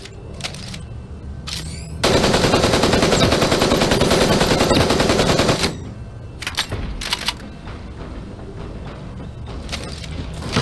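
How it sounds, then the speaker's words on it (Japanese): Rapid automatic gunfire in the mecha battle game Super Mecha Champions, a dense sustained burst lasting several seconds, followed by scattered shorter shots and mechanical clicks. "銃声が聞こえた。"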